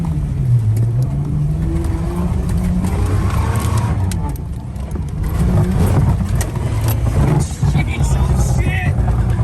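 An overland rig drives through water, its engine droning and revving under loud splashing and rushing water, with sounds from inside the cab close by.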